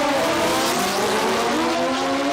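A nitro funny car at the Palmyra Dragway start line gives off a loud, dense, continuous engine roar at close range.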